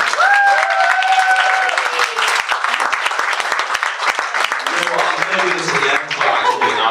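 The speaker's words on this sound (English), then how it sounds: "Giving her a clap." Wedding guests applaud warmly during the speeches, a sustained wash of clapping with cheerful voices and brief laughter mixed in, tapering slightly toward the end.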